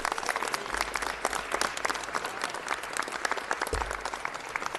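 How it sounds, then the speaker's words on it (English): Steady applause fills a city council meeting in Los Angeles, many hands clapping at a moderate distance in a continuous patter with no voices over it. "Let's give Ms. Ford a round of applause."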